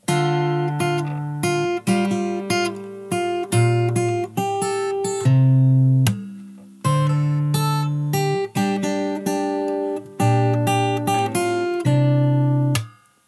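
Fingerstyle acoustic guitar plays the verse of a song, with plucked notes and chords in a steady rhythm. It sounds close and clear and has no talking.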